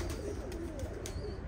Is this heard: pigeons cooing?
yes